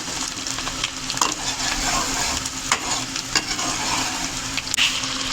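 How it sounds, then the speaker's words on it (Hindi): Onions fry in a pot with a steady close sizzle while a utensil stirs them, giving repeated scraping knocks as they brown for a village-style chicken curry. "तो इसको हमने सही तरह ब्राउन करना है प्याज को"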